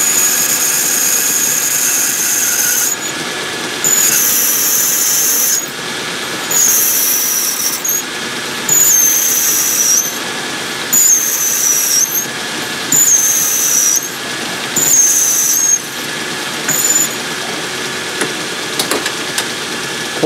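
Lathe hum runs steadily while a high-pitched cutting squeal comes in repeated bursts of a second or two, separated by short pauses, as a metal part is counterbored.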